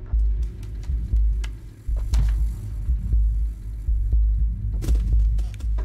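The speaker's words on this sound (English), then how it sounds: "There's like a low, like almost heartbeat-esque noise. It's synthetic" A low synthetic throb like a heartbeat pulses steadily in the Stray video game, a deep repeating thud with faint clicks and rustles scattered above it, and no talking.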